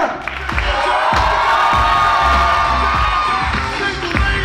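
At a comedy club, the audience erupts in loud cheering, shouting and whooping for the contestants, with clapping and rhythmic thumps beneath the sustained crowd roar that swells after the first half-second.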